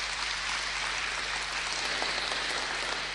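Audience applause at a UN human rights gala in Moldova: a dense, steady roar of clapping from a large crowd, sustained at even loudness over a low electrical hum.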